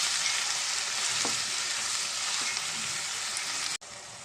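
Onions and green chillies frying in a pan, a dense, steady close sizzle with a couple of faint knocks, briefly interrupted near the end.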